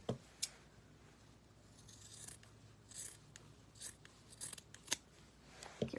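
Scissors snip across fabric for a no-sew snowman snow cone ornament, a series of crisp close cuts in uneven rhythm with quiet rustling between them.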